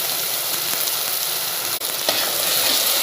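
A paste of tomato, onion and garam masala fries in oil in a pan, giving a loud, continuous sizzling hiss with a brief stir-like dip, with no voices.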